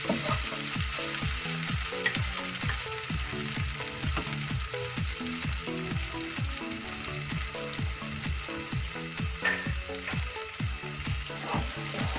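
Spice paste for Aceh shrimp mie goreng fries in a pan with a loud, continuous sizzle and crackle, close up and steady throughout with no voices.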